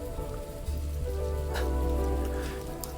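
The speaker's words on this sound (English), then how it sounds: "Man, I miss this rain sound." Rain falling in a VR fishing video game, a soft continuous patter at moderate level with a few brighter splashes, heard alone without talk.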